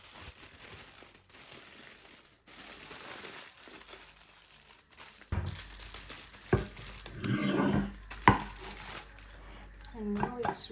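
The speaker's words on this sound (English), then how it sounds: "And now I need foil and paper, and we will roast it in the oven." Foil and paper are crinkled and handled while a turkey breast is wrapped for roasting in the oven, sounding as quiet rustles that build into louder crackling crumples with a few sharp crinkles near the end.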